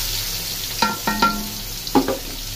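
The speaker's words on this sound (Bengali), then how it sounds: "এই যে তেল গরম হয়ে গেছে, এটা কিন্তু মাছ ভাজার তেল। তো পেঁয়াজটা ছেড়ে দিই" Onions dropped into hot fish-frying oil in a kadai, a continuous close sizzle punctuated by a few sharp scraping and stirring knocks, with no voices.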